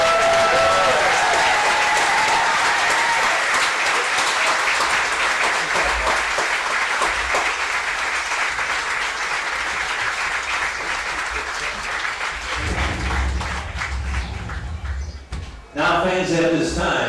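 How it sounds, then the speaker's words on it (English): Loud, sustained crowd applause and cheering at a minor league baseball game between the Batavia Muckdogs and Elmira Pioneers, steady for most of the stretch before tapering off near the end. "let's give Oliver and Kennedy a big round of applause for their continued battle"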